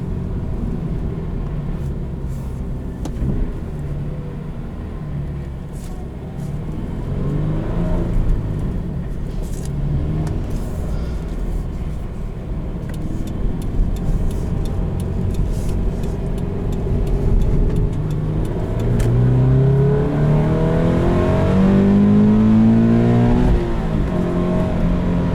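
A 2020 Subaru BRZ with a manual gearbox accelerates while driving, its engine drone steady at first and then climbing in a clear rising rev toward the end, with no talk.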